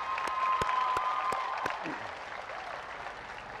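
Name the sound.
crowd applause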